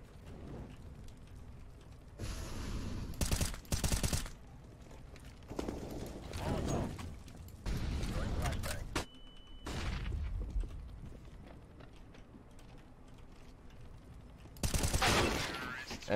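Bursts of rapid gunfire from an online shooter game come in several separate volleys, some long and sustained, over steady background noise with occasional faint talk between them.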